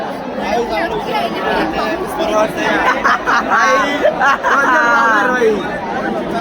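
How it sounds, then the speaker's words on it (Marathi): Dense crowd chatter at the 2024 Palkhi procession, many overlapping voices talking and calling out close by, a continuous babble that swells and stays busy throughout. "या बघा गर्दी बघा कैसे वाढले"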